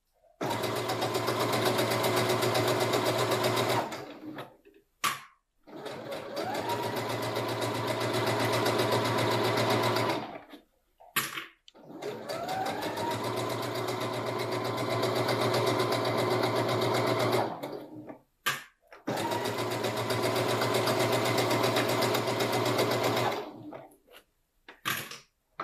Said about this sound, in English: Now that you have a little bit of practice in sewing curved seams, you can probably sew a little faster.